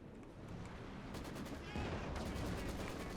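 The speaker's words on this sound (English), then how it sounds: "Artillery fire hitting down." Artillery barrage in the video game Company of Heroes 2, a faint rumble of bursting shells and crackling impacts that grows denser and louder toward the end.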